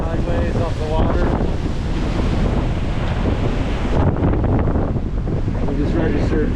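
Gale-force wind roars continuously across the microphone while sailing doublehanded on the open Atlantic, gusts near 40 knots, with waves and surf rushing beneath; loud, dense and unbroken throughout.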